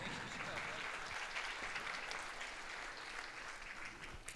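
Audience at a municipal music awards TV show applauding, a continuous soft wash of many clapping hands, fairly distant and even, with no clear voice over it.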